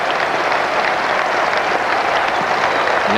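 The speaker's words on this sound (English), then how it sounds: "And listen to the applause here." Cricket crowd at a one-day international World Cup match applauding a batsman's century, a broad continuous roar of clapping from a large stadium audience, steady and fairly loud for the whole stretch.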